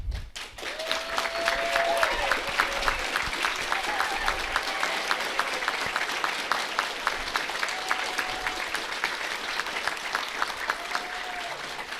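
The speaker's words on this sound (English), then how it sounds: "please stand so we can give you a round of applause" Certificated staff stand at a 2023 Community Based Transition Program graduation ceremony while the audience gives a long, even round of applause. Many hands clap steadily throughout, with a few faint voices rising above it.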